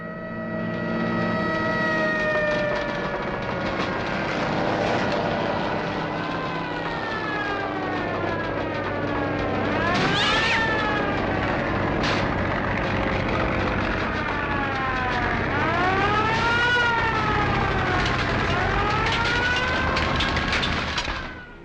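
Wailing siren of a fire engine leaving a nearby firehouse in a 1951 film, rising and falling in pitch over orchestral music, loud and close throughout with swells around the middle and end.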